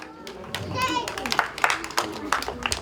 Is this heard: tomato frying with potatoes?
no